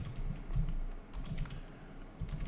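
Soft, quick keystrokes of code being typed on a computer keyboard, a steady patter of light clicks, close but quiet, with no voice.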